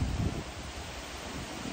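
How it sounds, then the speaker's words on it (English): Strong wind outdoors at a barrel race buffets the microphone with a constant, loud, rumbling roar and gusty rustle, with no other sounds standing out. "really windy here. Like really windy."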